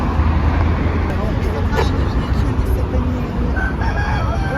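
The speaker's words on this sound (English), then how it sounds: "Is that a rooster that is here?" A large rooster crows nearby on an Istanbul street, a loud call rising over traffic noise from the road, while someone talks close by.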